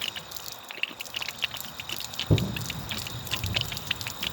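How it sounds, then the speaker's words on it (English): Water flows out of a pressure washer line, steady splashing and trickling close by, with a constant hissy rush and occasional drips and gurgles. "wait for the water to come out this end"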